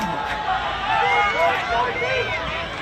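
A football crowd at a Reserves Grand Final, Karratha Kats against Dampier Sharks, cheers and shouts in surging waves, with close excited voices yelling over the general noise.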